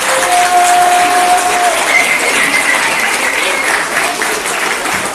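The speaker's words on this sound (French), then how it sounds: "On peut quand même les applaudir s'il vous plaît." Loud, sustained audience applause fills a hall at the opening ceremony of the Boulogne Horror Show 2016 horror festival. Dense clapping holds steady throughout with a faint crowd murmur mixed in.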